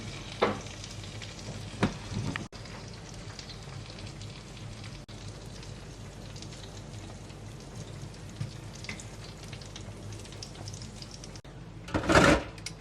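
Pork steak sizzles in a pan with a soft, steady crackle, broken by a few sharp scraping or clinking bursts near the start and a louder spatter close to the end.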